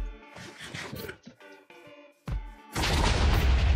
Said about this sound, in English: Cluster bomb 10 bomblets upon detonation